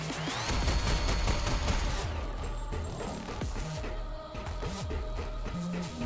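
Dense rattling gunfire in the Sprawl shooter game, with chain gun bursts and crashing impacts mixed with rumbling noise throughout.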